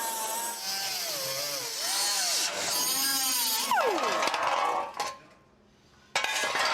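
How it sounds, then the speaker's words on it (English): Power tool cutting away a damaged end cap on a Scout truck, a loud whining grind that wavers in pitch as the blade bites metal, then cuts off briefly before starting again. "I'm cutting away the damaged end cap"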